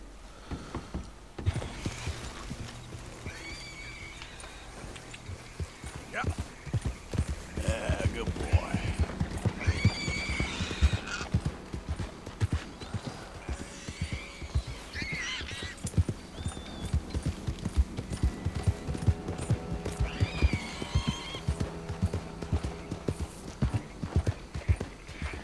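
A horse is ridden in the video game Red Dead Redemption 2. Steady hoofbeats clip-clop close by for the whole stretch, broken by several loud whinnies and neighs over faint background game sounds.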